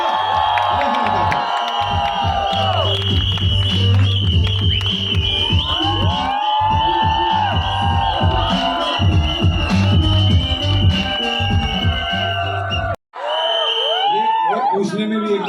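A crowd cheers, whoops and shouts for actor Manu Rishi on stage at the Mumbai trailer launch of Rahu Ketu. It is loud and continuous with tonal, music-like sounds, and cuts out briefly near the end before resuming.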